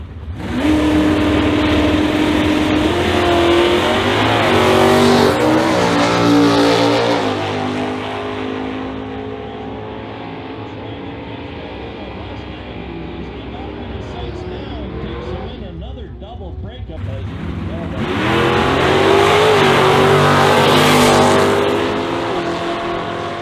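Classic muscle cars drag racing down a quarter-mile strip in the Stock and Superstock classes, engines roaring loudly off the line and revving hard as they pass, with an announcer talking over the racket.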